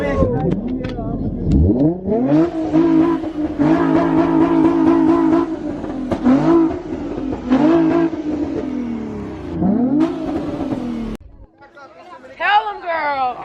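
At a Minneapolis street car meet, a car spins and revs hard, its engine climbing and falling in repeated wailing sweeps. A crowd chatters and shouts all around it, and the noise dips briefly before another rising rev.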